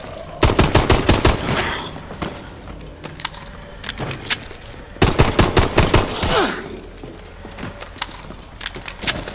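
Rapid gunfire bursts in the Advanced Warfare Outbreak video game, loud clustered volleys separated by short pauses, with clicking and mechanical rattles in between.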